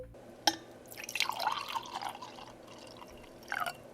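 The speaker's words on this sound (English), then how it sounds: "mix some resin with a little bit of blue pigment and just pour it inside" Resin mixed with blue pigment is poured into a small diorama, giving a sharp tick, then a thin trickling, dripping flow that fades, and a final brief splash of drips, close and quiet with no talk.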